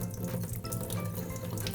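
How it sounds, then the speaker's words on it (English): Water drains out of the salt-and-ice bucket of an ice cream maker being tipped, a steady close trickling and splashing that runs on without pause and with no one talking. "The next thing we need to do is drain the water out of this thing."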